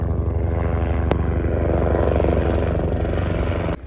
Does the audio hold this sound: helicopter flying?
yes